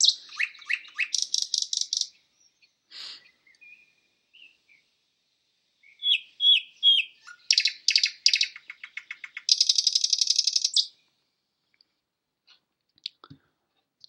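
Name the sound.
nightingale song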